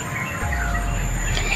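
Wild birds calling outdoors, a thin chorus of chirps and tweets over a low steady rumble, with insect-like buzzing mixed in.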